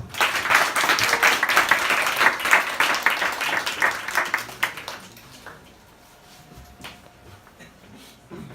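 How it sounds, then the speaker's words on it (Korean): Audience at a Christmas concert in a bar applauds an a cappella group with dense clapping for about five seconds. It then thins to scattered claps and shuffling. "박수 주십시오"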